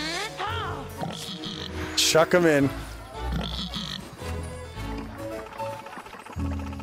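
Pigs oinking and grunting in The Plucky Squire, several short squealy snorts close up and interleaved with brief speech and game sounds.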